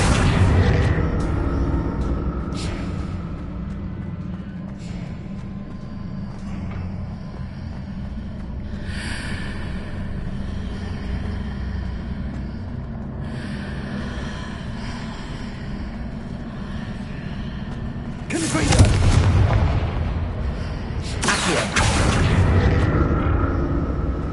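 Spell explosions go off in the Hogwarts Legacy video game, heavy booming blasts over a continuous rumbling game soundscape, with louder bursts near the end and no talking.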